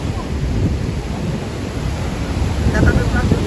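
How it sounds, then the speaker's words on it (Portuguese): Wind-blown spray at Iguaçu Falls makes a loud, continuous roar of rushing water and gusting wind, swelling slightly toward the end. "Essa hora que esse vento vem que molha"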